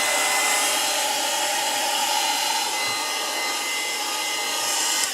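Hair dryer blowing steadily over craft paper pieces for a paper mini album, a continuous airy whirring hiss held at even loudness throughout, close by with no talk.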